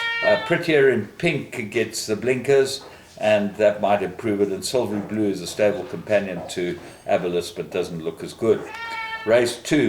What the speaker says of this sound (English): The cat's been bothered by the dog here, and so you can hear the meowing.